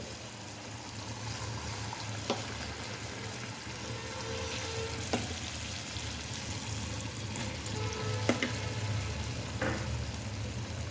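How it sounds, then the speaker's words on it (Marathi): Vadas deep-frying in hot oil for pani vada, with a steady low sizzle and bubbling throughout and a few faint scattered clicks. "आता बघा मी दुसरा लॉट तळून घेते. तेल एकदम छान तापलं, त्यामुळं तेलात सोडलं की लगेच वडा पलटी होते."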